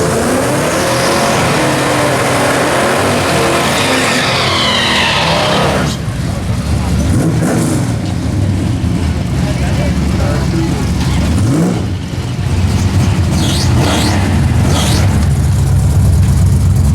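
Drag racing cars at the 2023 No Name Nationals, including a Pontiac LeMans with a 455 engine and a Mopar, launch down the strip with loud roaring engines and tire noise that swell and shift as they pass, with an announcer talking throughout.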